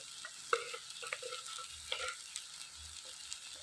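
Liver, seasoned with curry, black pepper and salt, stirred as it fries in a pan, with a steady soft sizzle broken by a few scraping stirs of the utensil, close and fairly quiet.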